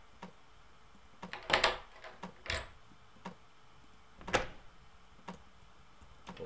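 A door in the stealth game The Very Organized Thief creaks and thuds in a few short bursts, with quieter clicks and knocks between them against a low room hum.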